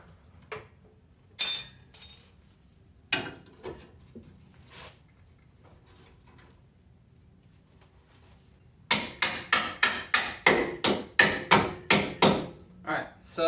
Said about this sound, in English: with the pry bar you can pry down on the upper control arm and then tap this bolt through much easier